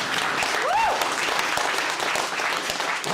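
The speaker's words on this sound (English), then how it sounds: "I think Lynnette and Ross deserve a clap for that one." Mourners at a funeral service clap together in a steady, dense burst of applause filling the whole stretch, with a brief voice-like rising tone near the start.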